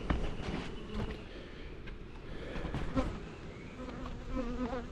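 Honeybees hum in a steady, close swarm around an open hive box on a spring day in West Virginia, a dense continuous buzz with individual bees flitting past.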